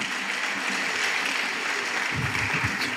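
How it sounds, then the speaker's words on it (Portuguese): An audience at an onion seminar in Viedma, Argentina claps in welcome, a dense, steady round of applause from a room of people that carries on evenly throughout. "vamos a brindarle un cálido aplauso"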